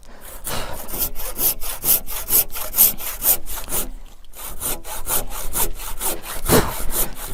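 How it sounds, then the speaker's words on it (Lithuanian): A hand saw cuts through wood along a marked line, producing a fast, even series of loud, close rasping strokes that run continuously with only a brief pause midway. "Neskubėdamas, palikdamas iki linijos kelis milimetrus, pjaunu."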